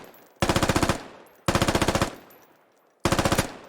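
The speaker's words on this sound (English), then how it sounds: "we can change our fire mode to full auto" Full-auto rifle fire in the video game Squad comes in three loud, rapid bursts, each a rattling string of shots that cuts off sharply with a decaying tail. No voices.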